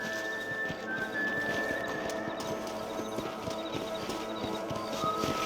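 In the Red Dead Redemption video game, a horse's hooves clip-clop in a steady walking rhythm, with a whinny mixed in. The sound is close and moderately loud, with no talking.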